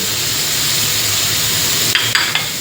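Holy basil pork and shrimp stir-fry in a hot pan with a continuous loud sizzle and hiss, broken near the end by a few sharp clanks of a spatula against the pan; no one speaks.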